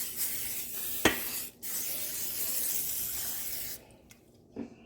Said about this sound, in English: I'm just gonna spray it with some olive oil cooking spray.